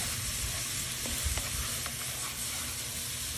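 Vegetables for chili sizzle and fry in a pan while being stirred, a dense steady hiss with a few faint clicks of the utensil against the pan, close and fairly loud, with no talking.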